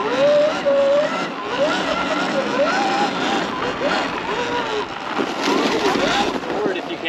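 Surron electric dirt bike sliding and drifting across snow, with a steady broad roar of wind and motion and whining motor tones rising and falling, while voices talk over it throughout.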